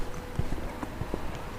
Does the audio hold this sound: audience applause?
no